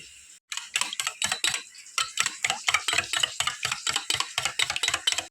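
Three eggs with a pinch of salt are beaten briskly in a bowl, a fast, steady run of close, crisp clicking strokes after a brief pause at the start.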